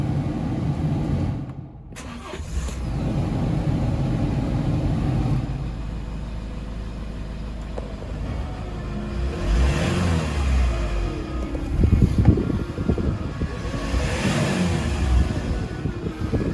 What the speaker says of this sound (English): Okay, I'll start engine.